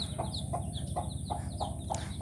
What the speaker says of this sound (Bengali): এই যে আমাদের নতুন মুরগির বাচ্চা উঠছে